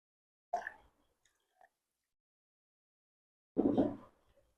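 Two brief, close bursts of crunchy chewing on soft raw leaves, separated by a quiet pause, with a faint click between them.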